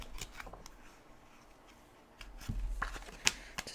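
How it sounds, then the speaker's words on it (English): Tarot cards being shuffled awkwardly and dropped, giving soft papery riffles and a few sharp slaps as cards fall, close and fairly quiet. "Just dropping the cards."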